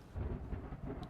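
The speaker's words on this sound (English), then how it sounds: "Thunder growls overhead." Thunder in the horror gacha video game Morimens rumbles low and heavy with a rain-like wash, a close, continuous growl with a few swelling pulses.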